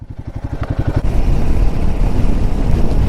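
A Royal Enfield Himalayan motorcycle rides along at night toward Velas beach, its engine a close, loud, steady rumble with a throbbing pulse at first, then a continuous drone mixed with wind.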